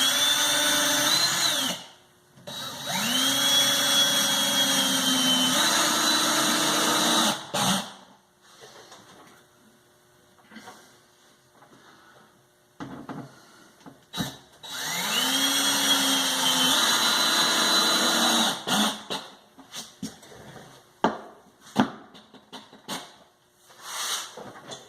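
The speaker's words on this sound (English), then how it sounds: "I'm going to run a few screws here so you can see how this little drill works" A Porter Cable 20V cordless drill drives screws in two long bursts, its motor whining up loudly with pitch shifts as each screw seats, separated by quieter handling clatter and short taps.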